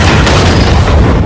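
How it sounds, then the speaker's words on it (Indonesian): A car explodes in a deep, loud boom that roars through the whole moment as a dense rumble, close and overpowering, with no voices. "mobil itu pun meledak"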